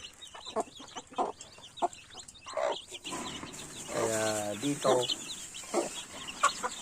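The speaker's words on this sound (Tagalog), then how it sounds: "mga alagang manok" Chickens cluck and a rooster calls nearby, with a short burst of speech over the busy farmyard chatter.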